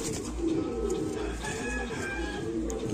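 A male Rampuri pigeon coos softly in a repeated low rhythm, close by, against steady background noise with faint other bird sounds.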